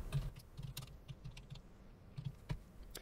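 Light clicking keystrokes on a computer keyboard, typed in uneven bursts and single taps, faint and close with no talking.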